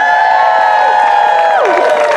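An audience at a Shakespeare Romeo and Juliet stage performance cheers loudly and close, voices holding a long sustained note together before sliding downward at the end.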